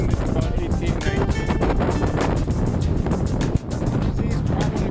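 Strong wind of about 18 to 23 knots buffets a sailboat on Lake Michigan, a loud, continuous roar and gusty rushing across the whole stretch with one brief knock near the end.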